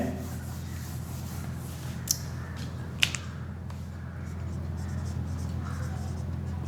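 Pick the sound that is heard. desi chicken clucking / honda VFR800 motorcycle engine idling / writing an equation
writing an equation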